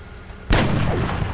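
Gunfire in the video game XCOM Long War: one sudden loud shot with a sharp broadband attack, ringing into a sustained dense roar that holds for the rest of the moment, no voices.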